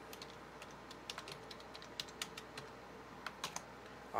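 Quiet keystrokes on a computer keyboard tap out a folder name, a light irregular patter of individual clicks spread over about four seconds, close and soft with no talking.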